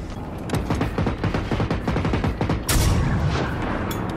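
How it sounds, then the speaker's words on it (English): Smoke rockets fire in rapid succession during a boss fight in a video game, a dense string of sharp popping bursts close by, growing into a heavier blast near the end. "Oh, these are smoke rockets."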